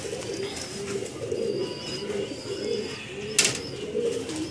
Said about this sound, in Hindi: ये आपके सामने ये वो कबूतर हैं